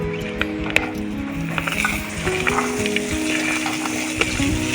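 Cauliflower florets fry in a little butter in a pan, a steady close sizzle with scattered crackles and light clinks of a utensil stirring, no voices over it.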